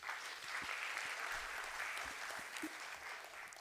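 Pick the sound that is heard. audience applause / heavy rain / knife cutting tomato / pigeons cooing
audience applause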